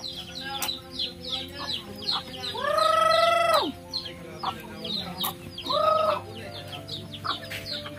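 Chickens cluck and chatter close by in a backyard flock, with a loud rooster crow and a shorter second crow standing out over busy clucking.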